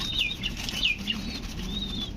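Pigeons being sold in pairs flap their wings in short bursts, with a few high chirps and soft cooing over steady background noise.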